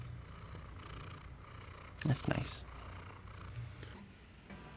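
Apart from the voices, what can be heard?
cat purring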